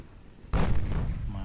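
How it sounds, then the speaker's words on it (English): Naval guns fire an armor-piercing shot in the warship game Ultimate Admiral Dreadnoughts: a single sudden heavy boom that rolls on as a sustained rumble, with a quiet voice before it. "Let's fire an armor-piercing shot or two."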